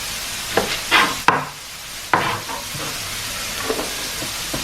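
Shrimp sizzling in a hot pan while being stirred, with a steady frying hiss broken by several sharp scraping and clattering stirs of the utensil, close and fairly loud.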